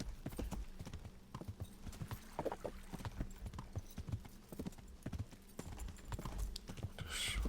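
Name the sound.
horse hooves clip-clopping while riding in Kingdom Come: Deliverance video game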